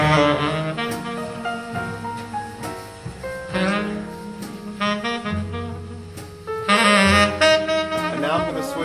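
Music from a Marantz demo disc plays through old Dayton B652 speakers, a full, dynamic recording with shifting instruments and swelling passages, heard steadily as if from a room.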